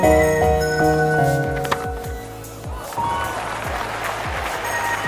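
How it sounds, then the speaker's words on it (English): Cricket crowd applause at a match where Imran Khan is bowling against India in Pakistan: after a few seconds of tonal broadcast sound, a broad wash of distant clapping swells and continues steadily, with low rhythmic thumps underneath. "Good round of applause for Imran."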